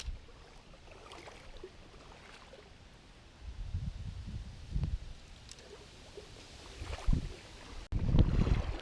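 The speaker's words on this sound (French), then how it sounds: "Là, il pleut bien, là il y a du beau vent et tout." Gusty wind buffets the microphone in low rumbling surges, growing stronger toward the end, with a soft wet hiss like rain underneath.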